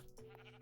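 A sheep bleats in the Minecraft video game, a short, faint, steady call heard alone at low volume.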